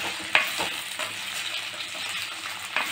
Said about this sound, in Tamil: சேர்த்து நல்லா வதக்கிடலாம்